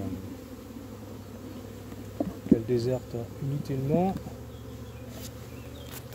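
Bees hum and buzz around a small nucleus hive fitted with a super, a steady close drone under someone speaking French.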